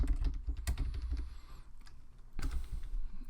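Quick bursts of keystrokes on a computer keyboard, close and fairly quiet, with a short pause in the middle before another cluster of clicks; no one speaks.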